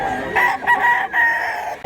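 A rooster at a poultry market crows once, a loud, close cock-a-doodle-doo with a rising then drawn-out call, standing alone without talk.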